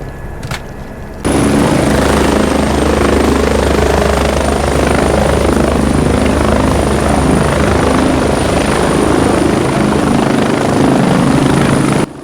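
A helicopter in the Squad military video game runs steadily at close range, a loud continuous rotor and engine roar with a high whine, after a brief quieter lead-in, with no talk.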